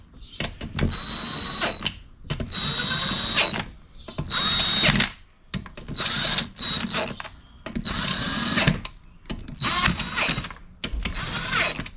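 A power drill drives the beadlock wheel bolts on a CFMOTO CForce 600 ATV, with about seven short whirring bursts in a regular rhythm, each rising to a high tightening whine and separated by brief pauses.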